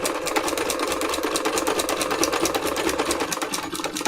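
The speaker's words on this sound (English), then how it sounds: "Let's just go around it again, trying not to be on the edge of the pink and not to sew over the lines that we've already sewn." A sewing machine runs steadily at high speed doing free-motion embroidery on a fabric junk journal cover, its fast needle chatter continuous and close throughout.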